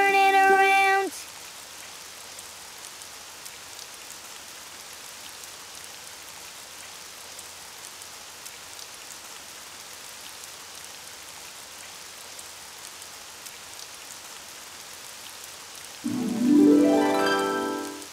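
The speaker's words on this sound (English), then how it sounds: "Oh, it's raining outside." Steady, soft rain patters continuously on a surface for a long stretch in a Daniel Tiger cartoon episode, with brief musical tones at the start and end.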